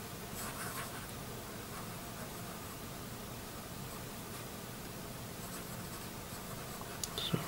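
A Pelikan M800 fountain pen with a medium italic nib writing on paper, giving a continuous soft, dry scratching that is close and steady throughout, with a couple of tiny ticks near the end.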